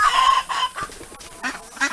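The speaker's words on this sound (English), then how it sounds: "Yeah, that's one of the roosters." A rooster calls nearby in a few short, ringing cries with brief pauses between them.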